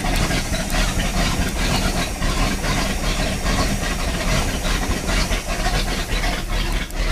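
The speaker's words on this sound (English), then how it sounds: "So right now the engine is idling" A 1993 Crownline 225 CCR boat engine idles steadily up close, giving a continuous low rumble with hissy broadband noise throughout and no talking.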